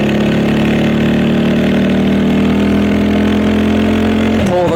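A manual motorcycle engine drones loud and steady after an upshift, its pitch holding and slowly climbing with the revs before cutting off abruptly near the end.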